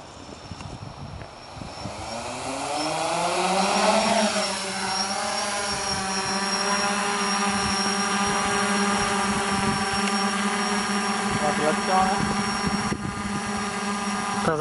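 A DJI F550 hexacopter drone with Naza controller spins up and lifts off, its rotor whine rising in pitch over the first four seconds and then holding a loud, steady multi-tone buzz with slight wavering as it hovers close by.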